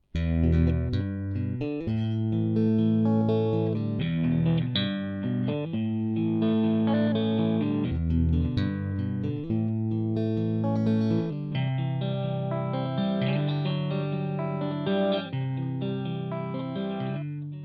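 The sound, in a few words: electric guitar track played dry, then through an amplifier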